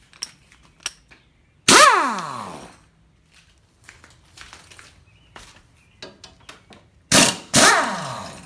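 A Harbor Freight air impact wrench rattles mower blade bolts loose with a 14mm socket: one loud hammering burst, then two more back-to-back near the end, close-up, with small clicks and handling noises between.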